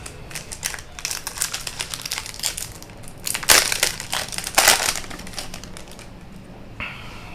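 Plastic foil wrappers on Prismatic Evolution trading card booster packs crinkle and tear as they are opened, a close, loud stretch of rustling and crackling with sharper bursts in the middle, then quieter handling near the end and no talking.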